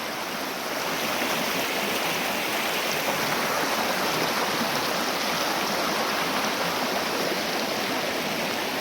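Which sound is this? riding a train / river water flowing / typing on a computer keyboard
river water flowing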